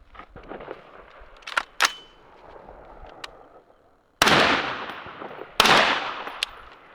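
Two sharp, loud gunshots fired through a Surefire RC3 full-size suppressor, each a sudden crack with a short decaying tail, preceded by quieter handling clicks and rustle.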